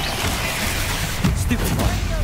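Bombarda explosion spell in Hogwarts Legacy, a muffled burst of blasts and thuds midway through amid busy combat noise and a faint voice.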